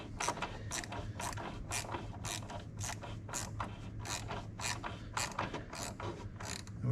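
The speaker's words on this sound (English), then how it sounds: "We're just gonna tighten these down until we feel a little bit of resistance" Ratchet tightening captured nut bolts on a BMW 528ix, a brisk series of close clicking strokes in an even repeating rhythm.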